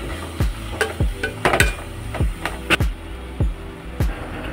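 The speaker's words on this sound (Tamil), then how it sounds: "அடுத்து தக்காளி ரவுண்டாக நறுக்கி சேர்த்துக்கோங்க, அப்போ தான் சீக்கிரம் வதங்கும்." Round-cut tomato slices sauté in a pan for thakkali kurma, a spoon stirring and scraping in repeated strokes about twice a second over a soft sizzle.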